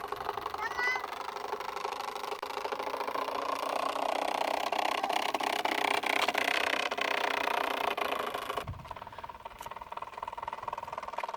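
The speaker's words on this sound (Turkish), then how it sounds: "Egzoz yer değiştirdikçe oynadıkça sesi değişiyor motorun." A bicycle with a homemade exhaust makes a small engine-like buzzing drone, steady and close, its tone shifting slightly as the exhaust moves, before cutting sharply quieter near the end.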